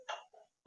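A single short cough from a woman with a sore throat and lost voice, faint and brief, followed by a sudden loud burst of noise at the end.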